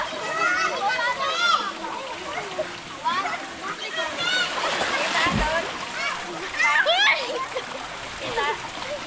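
Stream water splashes and churns steadily near a pool, with children's voices chattering and calling over the running water.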